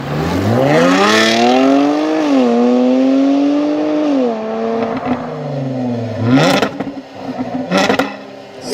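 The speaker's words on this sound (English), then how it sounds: "the Jaguar XE S is powered by a 3-litre supercharged V6 engine from the F-Type" A Jaguar XE S with a 3-litre supercharged V6 revs hard in Forza Horizon 5, the engine note climbing and dipping through gear changes, then sharp crackling bursts pop out near the end, loud and close.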